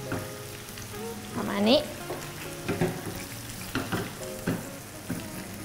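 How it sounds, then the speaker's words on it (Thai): Sauce for Japanese chicken meatballs is stirred in a pan as it thickens, with scraping strokes and a soft sizzle running throughout, while a voice and some harmonic tonal sounds come and go over it. "คนให้ละลายเดี๋ยวตัวน้ำซอสมันจะข้นขึ้นนะคะ"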